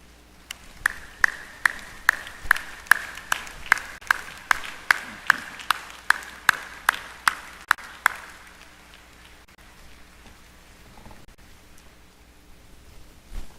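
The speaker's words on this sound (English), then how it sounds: "give them a round of applause" A graduation audience at the University of the Commonwealth Caribbean 2018 commencement gives a round of applause, heard as steady, evenly spaced claps that stop after about eight seconds, followed by quiet room murmur.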